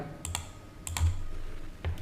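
Computer keyboard keys pressed while entering a dimension value in SolidWorks, a few sharp close clicks in small bursts with brief pauses between them, no talking.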